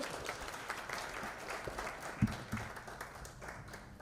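Soft, distant applause from a conference audience at a session on e-waste progress, a dense patter of clapping with a sharper clap in the middle, faint and continuous.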